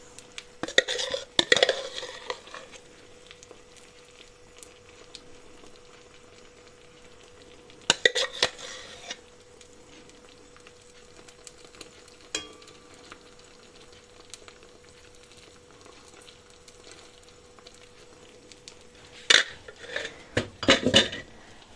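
A utensil scrapes and clatters against a frying pan while egg mixture is spread across it, with bursts of scraping at the start, middle and end over a quiet hum and a light sizzle.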